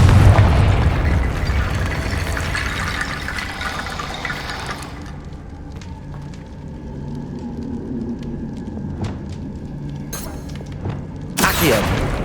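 A Confringo blasting spell goes off in Hogwarts Legacy: a loud, rumbling explosive burst opens the clip and fades over several seconds into a low ambient hum, with a sharp crackling flare near the end.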